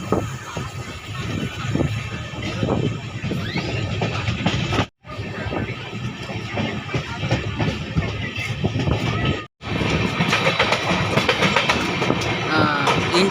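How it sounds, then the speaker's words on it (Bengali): Balurghat–Sealdah Express pulling out of Malda Town station, a loud, steady rumble of wheels on track with rhythmic clickety-clack and rattling carriages, broken by two brief dropouts. "মালদা টাউন স্টেশন থেকে পাঁচ মিনিট মতো দেরি করে আমাদের ট্রেন ছেড়ে দিল"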